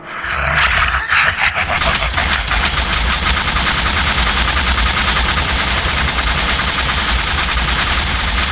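Sustained rapid gunfire from the Transformers: War for Cybertron video game as a boss's vulnerable back power cores are shot, loud and dense throughout with a continuous rattling barrage and no speech.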